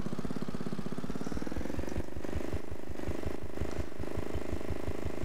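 A 1970s-era lawn tractor engine runs steadily and close by, with a loud, pulsing chug and a faint rise and fall in its beat.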